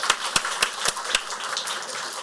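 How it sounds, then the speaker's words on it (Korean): An audience claps at a Korean church graduation service, steady and fairly close, with sharp individual claps standing out over the sustained applause for about two seconds. "다시 한번 감사의 박수로."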